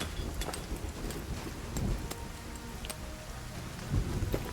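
Steady rain falls in the survival video game Sons of the Forest, a dense hiss with scattered drop crackles and low rumbling, continuous and moderately loud, with no talking.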